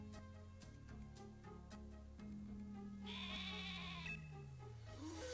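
A sheep bleats in the video game Pokémon Shield, a wavering, drawn-out cry rising over soft game music with plucked notes, close and clear with no talk.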